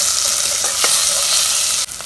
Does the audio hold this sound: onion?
yes